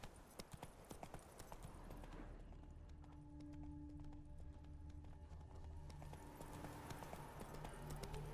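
A horse gallops in The Witcher 3 video game, its hoofbeats a steady clip-clop rhythm heard alone at low level, with a faint whinny-like tone midway.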